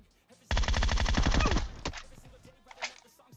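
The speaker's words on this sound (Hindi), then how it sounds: "दूसरा बंदा न जाने कौन सी महंगी गन चला रहा है पेट से।" Automatic gunfire in the mobile battle royale game PUBG Mobile, a rapid burst of evenly spaced shots for about a second, then a few scattered single cracks and softer echoes. Loud and close, with no talk over it.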